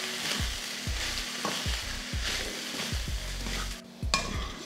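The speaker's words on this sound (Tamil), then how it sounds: "அடுப்பை வந்து சிம்ல வச்சிருக்கேன் சிம்ல வச்சுட்டு கிளறிக்கலாம்" Spinach rice being stirred in a pan over a low simmering flame, a continuous soft sizzle with regular scraping strokes of a spoon and light metallic clinks, close and without speech.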